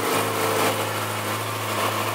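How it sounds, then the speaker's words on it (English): A 2009 Yamaha YZF-R6 sport motorcycle with stock exhaust and about 1,000 miles idles nearby, a smooth, steady buzzing hum with a faint tick and no talking. "We'll quick walk around with it running here."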